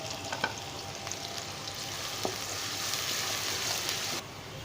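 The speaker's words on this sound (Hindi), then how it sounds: "अभी इसमें मैं अदरक लहसुन की पेस्ट शामिल कर लेता हूँ और इसको मैं अच्छे से इसमें ब्राउन कर लूँगा" Ginger garlic paste fries with onions in hot oil for a pakora gravy, giving a steady, dense sizzle with a few light scrapes and clicks, close and continuous throughout.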